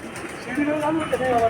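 Pigeons cooing in a pigeon keeper's coop in Bhopal, soft throaty coos close by over a short moment, with nearby chatter around them.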